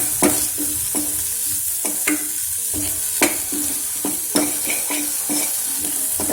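Spices with turmeric and chili powder are stirred and roasted in a hot pan as part of a samosa filling, giving a steady sizzle broken by repeated scraping strokes of a spoon against the pan.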